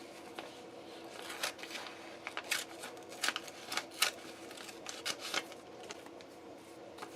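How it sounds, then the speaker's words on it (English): Scissors snipping around small paper ephemera pieces backed with double-sided repositionable adhesive, a string of quiet, irregular cuts close by with no talking. "So I'm just going to cut around them."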